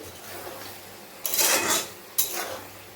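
Tangra fish curry being stirred in a pan: two scraping, clattering bursts of a utensil against the pan, each lasting about a second, close and fairly loud over a quiet background.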